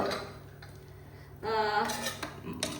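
A spoon stirs coarse ground masala into tindora in a pot, with a few metallic scrapes and clinks close by, quiet at first and then busier.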